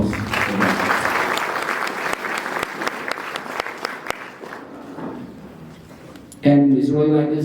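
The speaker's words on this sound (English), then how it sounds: "Please applause." At a royal visit to a university in Namibia, an audience claps in a loose, scattered burst of distinct claps over room noise and low voices, and then a voice begins speaking loudly as the applause ends.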